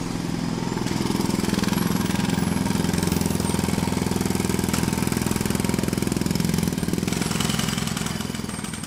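A loud, continuous mechanical hammering with a rapid pulsing beat, like a pneumatic drill running steadily up close; a pneumatic hammer used for extracting coal in a mine.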